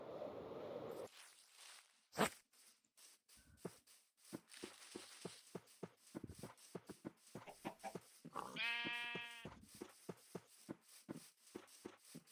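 Sheep in the video game Minecraft give a single clear bleat partway through, set among soft, rapid clicks and shuffling footstep sounds.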